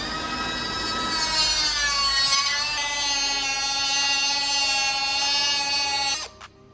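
A cutting blade grinds a first cut through a car body panel during bodywork on an E30 M3, a loud, sustained whine with steady harmonic tones for about six seconds, then stopping abruptly.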